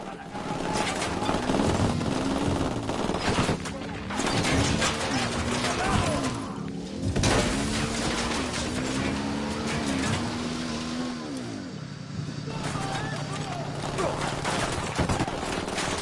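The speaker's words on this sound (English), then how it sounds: "Taking fire from inside the garage." Automatic gunfire and scattered shots from a Ghost Recon Wildlands firefight at a garage, dense and continuous over a vehicle engine drone, with voices calling out through the action.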